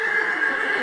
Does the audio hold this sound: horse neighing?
yes